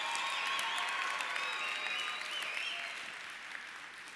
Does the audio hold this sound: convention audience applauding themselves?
yes